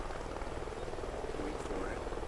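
Helicopter in the video game Call of Duty: Ghosts, a steady broadband rotor and engine roar filling the scene at moderate level, with gunfire-mission ambience and faint game sounds underneath.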